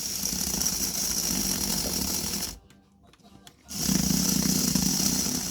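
Freshly greased PIKO electric model locomotive motor runs with a steady whirring buzz that drops out briefly in the middle and then resumes, close and continuous with no talking.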